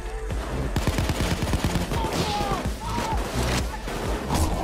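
Rapid, dense gunfire from a PAYDAY 2 nightclub heist shootout, sustained bursts of automatic fire crackling throughout with a few sharp single shots, loud and close, while voices shout and talk over it.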